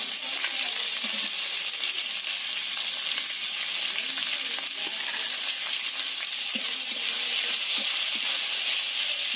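Chopped onions sizzle steadily in hot oil with cardamom, cinnamon and cloves for a chicken curry, a dense continuous frying hiss with occasional faint utensil taps, close and even throughout.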